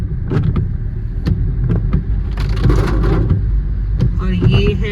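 A car climbs the road up to the City Palace in Udaipur, its engine and tyre noise steady and close, with a few sharp knocks and someone talking over it.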